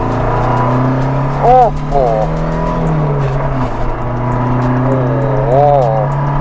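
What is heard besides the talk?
Alfa Romeo Giulia Sprint exhaust revving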